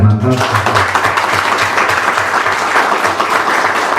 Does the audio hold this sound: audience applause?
yes